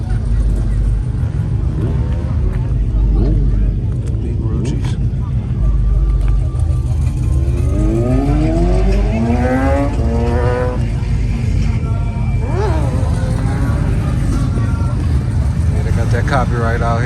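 Classic cars cruise past at a street car show, engines rising and falling as vehicles drive by one after another over steady crowd and traffic noise, with people talking nearby.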